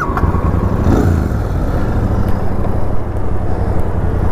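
A Royal Enfield Super Meteor 650 motorcycle's engine and exhaust rumble loudly and steadily while riding, a deep bassy drone with wind buffeting layered over it, no speech.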